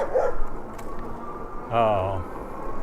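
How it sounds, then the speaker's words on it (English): On a Memorial Day e-bike ride, a dog gives a single short bark or yelp, clearly heard amid ongoing conversation and outdoor noise. "Look at the dogs."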